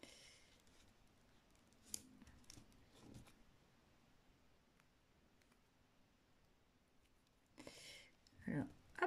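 Scissors trim excess corrugated cardboard on a small beach-cabin model, with quiet snips and rustles and a cluster of closer, louder cuts at the end, while a voice speaks softly.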